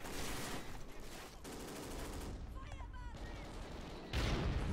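Bursts of gunfire from the video game Call of Duty Ghosts pop and rattle through a busy game mix, with rapid repeated shots and a louder blast near the end, while a voice talks over it.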